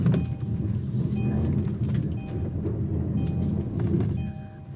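The engine of a 2020 Kia Sportage strains at full throttle while climbing an off-road hill, a loud, low, steady roar with faint rattles and a short drop in intensity near the end.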